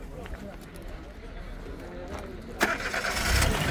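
At a used-car market in Norin, a gas-fitted used car's engine is faint until it cranks and catches near the end, then it runs louder. Voices murmur in the background.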